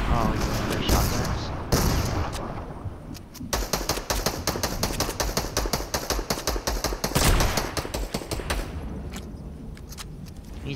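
Shotgun blasts in a shooting video game, a run of sharp, loud reports, some in quick clusters, landing under steady talk from a player.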